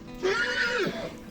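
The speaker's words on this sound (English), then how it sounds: "And this sound is called a neigh." A single horse neighs, a high shrill whinny that rises and then falls away over about a second, heard close and clear.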